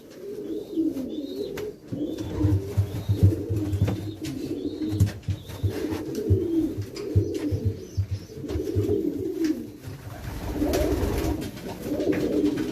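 Racing pigeons in a loft in Madrid, Spain coo in repeated low, rolling phrases close by, several birds overlapping with a few soft chirps and a brief rustle of wings, no voices.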